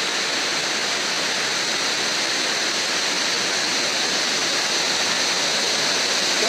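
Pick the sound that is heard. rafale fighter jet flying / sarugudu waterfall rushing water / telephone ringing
sarugudu waterfall rushing water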